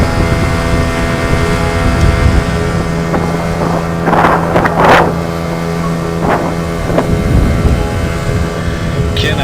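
A fast sailing dinghy motors over open water with a steady engine drone and heavy wind buffeting the microphone, loud and close, with brief bursts of spray or voices rising through the roar.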